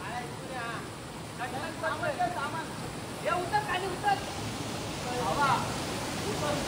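A secret waterfall gives a broad, steady rush of falling water close by, with people talking excitedly over it throughout.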